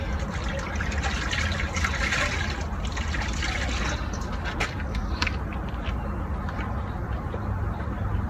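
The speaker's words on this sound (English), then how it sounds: "So I'm gonna rinse it in 1 bucket" Water sloshes and splashes in a bucket as dirt is rinsed off while a motorcycle is washed, a continuous near, fairly loud churning with brief dribbles.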